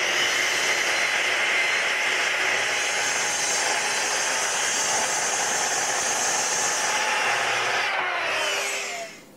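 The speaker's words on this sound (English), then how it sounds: "we're ready to cut those 2 in half" A circular saw with dust extraction cuts a plywood sheet in half in one long, steady, loud whining pass that winds down near the end.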